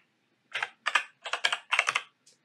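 Quick clusters of keystrokes on a computer keyboard as a board part number is typed into a search field in the STM32 project tools, several short bursts of clicks close by with no talking.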